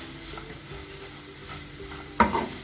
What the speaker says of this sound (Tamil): இப்போ இதை வந்து நல்லா வதக்கி எடுத்துக்கலாம்